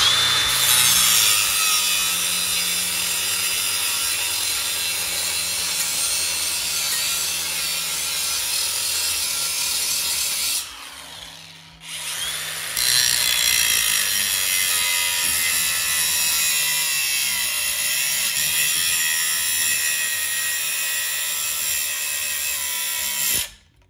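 A cordless power tool saws steadily through a piece of a Jeep YJ roll cage, a loud continuous grinding cut that drops out briefly midway, then resumes at full strength until it stops at the end.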